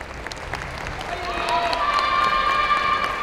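Audience at a yosakoi dance festival applauding and cheering for a small dance team, clapping swelling from moderate to louder and steadier over a few seconds, with a faint voice under it.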